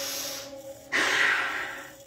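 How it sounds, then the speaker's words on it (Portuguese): A person takes a deep breath close to the microphone, a long, airy inhale that swells suddenly and then slowly fades, heard alone without speech. "Respira fundo comigo assim"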